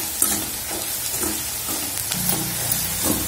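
Spices sizzle and fry in a pan for bitter gourd curry, with a steady crackling hiss and occasional stirring scrapes, close and continuous with no talk.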